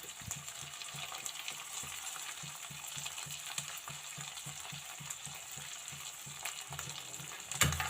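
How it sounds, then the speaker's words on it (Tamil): Sweet corn and vegetables sauté in hot oil, giving a soft steady sizzle broken by a regular run of scraping stirs, with one louder clatter at the end. "எண்ணெயில் நல்லா வதங்கணும்."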